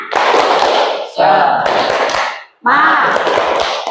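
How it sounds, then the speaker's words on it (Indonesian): A classroom group does the 'tepuk semangat' clapping routine: loud, close bursts of rhythmic clapping blended with children's chanting voices, broken by a brief gap before a final burst. "Tepuk semangat."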